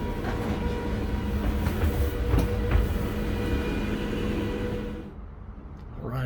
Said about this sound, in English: here's our train waiting for us